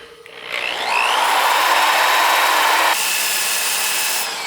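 A wooden utility box spins on a lathe at about 500 RPM while 180-grit abrasive is pressed against it, giving a steady, close whirring hiss with a faint high whine that holds evenly, then eases slightly near the end.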